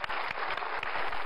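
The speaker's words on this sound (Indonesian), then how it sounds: "Boleh ya kita kasih tepuk tangan dong?" A television studio audience gives a short round of applause, a dense patter of clapping lasting just over a second at moderate level.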